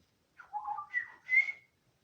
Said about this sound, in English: She made a whistle.